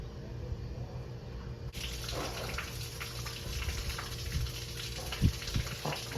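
Water from a garden hose gushes steadily into the radiator of a 1995 Toyota 4Runner, a continuous splashing flow that starts abruptly and carries on with small knocks.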